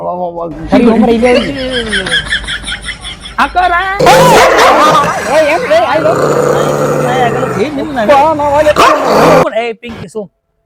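A dog barks repeatedly and close by, in short bursts, while people talk and chuckle around it.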